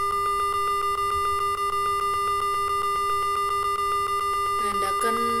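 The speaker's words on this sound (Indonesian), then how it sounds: "Sini buzzernya lebih cepat." An electronic buzzer in an Arduino parking sensor simulation beeps in a rapid, steady series of short tones, ending with a few brief electronic chirps; no talking.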